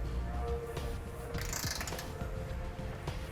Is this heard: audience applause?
no